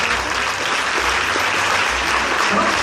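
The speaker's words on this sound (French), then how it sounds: "Et vous pouvez applaudir." Audience at a live hypnosis stage show in Bayonne breaks into steady, dense applause, loud and close, with many hands clapping continuously throughout.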